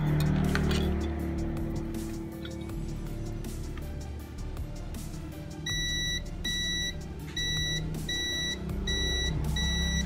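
A multimeter gives short, sharp continuity beeps while testing shorted capacitors on a Xiaomi Redmi 7A circuit board. The beeps repeat in a regular series over a background of low traffic-like noise.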